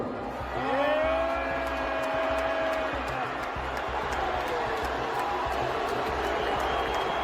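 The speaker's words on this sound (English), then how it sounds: "Cheers and booze, I see." A comedy show crowd cheers, whoops and jeers at a distance, with rising shouted voices early on over a dense background murmur and a few scattered claps, all fairly faint.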